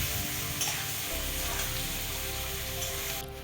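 Soybean curry with potatoes and turmeric powder being stirred in a hot pan, giving a steady loud sizzle and frying hiss with scraping stir strokes, close and continuous, dropping slightly at the end.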